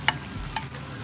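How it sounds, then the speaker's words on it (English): Peppers cook in a frying pan for escovitch fish, a soft steady sizzle broken by a few sharp scraping stirs from a utensil, close by and without talk. "So peppers in there now. Let that simmer down a little bit."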